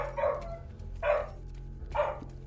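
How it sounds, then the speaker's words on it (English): Three barks from a dog, evenly spaced about a second apart, over a low steady hum in the background. "there's always gonna be barking. We have a dog."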